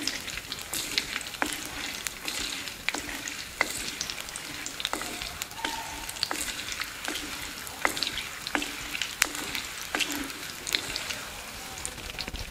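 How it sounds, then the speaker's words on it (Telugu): Whole garlic cloves fry in hot oil in a pan for a tomato sesame kurma, a continuous crackling sizzle peppered with sharp pops and spatters, steady and close throughout. "వెల్లుల్లిపాయ రెబ్బలు బాగా వేగాయి"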